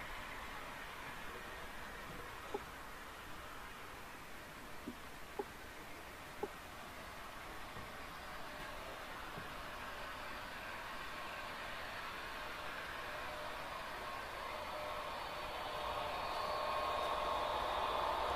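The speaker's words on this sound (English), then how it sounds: "We'll watch the coal train as we go by." A model coal train runs on a Union Pacific layout, giving a quiet steady rolling hum with a few faint clicks, growing slightly louder toward the end, with no talk.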